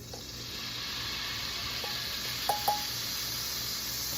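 Rendered beef fat sizzles in a hot pan with a steady, even hiss and two brief clinks near the end, close up and without talk.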